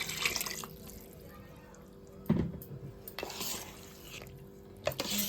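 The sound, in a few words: pouring tamarind juice into pot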